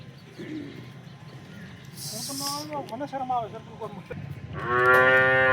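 At a Porbandar cattle sale for pregnant cows, a cow gives short, wavering lowing calls, then a loud, sustained moo close by near the end, over a background of crowd chatter and a brief hiss.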